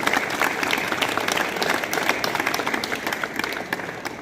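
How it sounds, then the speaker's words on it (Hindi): Students applaud a boxing champion, an inter-university runner-up, at a boys' college, the dense clapping steady and close for the whole stretch without a break. "एक बार जोरदार तालियां बच्चों की।"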